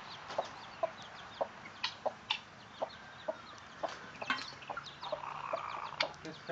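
A mother hen clucks among her chicks in a farmyard with guinea fowl nearby, giving short repeated clucks at a steady rhythm amid higher chick peeps and light background activity, with no talk.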